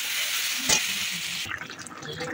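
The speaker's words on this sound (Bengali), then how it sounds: "মশলাটা যে কষিয়ে নিয়েছি, এটা মাছগুলো দিয়ে দেবো" Fish pieces dropped into fried onion and spice paste in a hot pan, a sharp hiss at the moment of adding, then settling into a softer bubbling sizzle, close and without speech.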